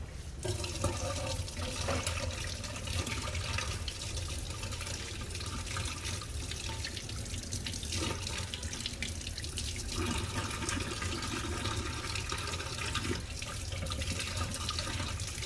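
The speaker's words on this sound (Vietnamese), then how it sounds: "Ta tiến hành rửa thật sạch rễ lan." Tap water runs steadily over Phalaenopsis orchid roots as they are rinsed, a continuous splashing and gurgling stream, close but fairly quiet, with no talk.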